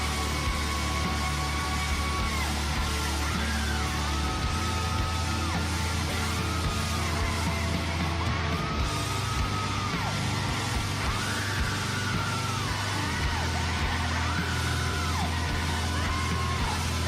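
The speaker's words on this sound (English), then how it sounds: "It's music of women screaming. That's what we just heard." Music built on women's high, sustained screams and yells, with rising and falling wails over a steady loud backing that runs without a break for the whole stretch.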